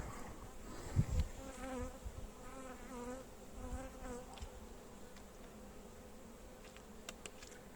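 Honeybees foraging on buckwheat buzz close by, their wingbeat hums rising and falling as individual insects pass the microphone in a quiet outdoor setting, with a couple of faint knocks early on.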